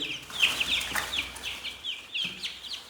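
Black Cochin chicks chirp in a box, rapid high peeping calls overlapping in quick bursts, close and fairly loud, continuing throughout.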